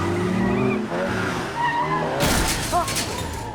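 Tires of a brand new car skid and squeal loudly from about two seconds in, a harsh broadband screech with a brief shattering edge, following a stretch of low rumbling engine and indistinct movie-scene sound.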